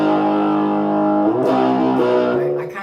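Distorted electric guitar riff in a heavy style, a few sustained chords that slide and shift near the end, loud and close with no talking over it.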